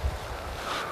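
Wind blowing across open heathland, a steady broadband rush with low gusty rumble at the start and a slight rise in hiss near the end, close to the microphone.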